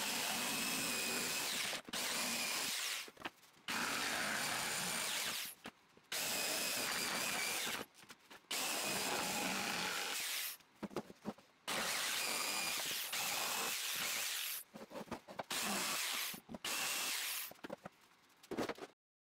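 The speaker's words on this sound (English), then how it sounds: "I used a jigsaw to cut them out." A jigsaw cuts pallet wood planks in loud, close, buzzing runs of a few seconds each, broken by short silent pauses.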